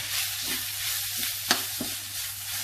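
Minced rice field rat stir-fries in a pan for a spicy dish with sour bamboo shoots, giving a steady close sizzle broken by a few sharp scrapes and knocks of the utensil.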